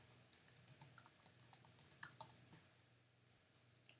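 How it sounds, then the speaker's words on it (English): Students' names typed on a computer keyboard: a quick, uneven run of close, crisp key clicks that thins out into a few scattered taps near the end, with no talking. "type your students' names"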